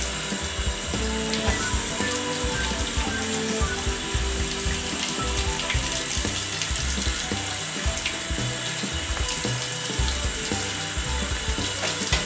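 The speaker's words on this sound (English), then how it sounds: "I'm just going to turn on some water and let it rush through there" Tap water rushes steadily through winemaking tubing to flush out soap. The splashing gush carries on unbroken at close range, with faint clattering knocks underneath and no voices.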